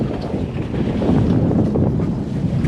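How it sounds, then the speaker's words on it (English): A fishing boat motors through rough waves on Lake Erie, with steady engine drone, water rush and heavy wind buffeting the microphone throughout. "The waves here are pushing me quite a bit."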